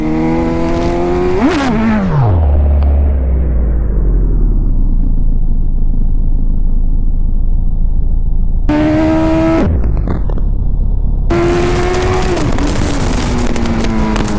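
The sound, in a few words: motorcycle engine revving during a wheelie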